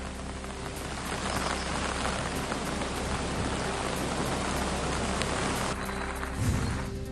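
Heavy monsoon rain pours in a dense, steady hiss near Khalapur, where the Patalganga river has flooded, loud and unbroken for the whole stretch with no voices.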